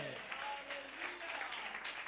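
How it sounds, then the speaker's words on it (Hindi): Faint applause from a church audience at a sermon gathering, a soft scattered patter of clapping with some murmuring underneath. "अपने लिए तालियां बजाएं।"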